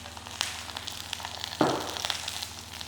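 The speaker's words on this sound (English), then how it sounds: "I'm just going to fire a wee bit of butter into that there." Butter sizzling in a hot pan with ling fish, a soft steady frying hiss. Small pops and crackles come and go, with a louder burst of sizzle about halfway through. No talking.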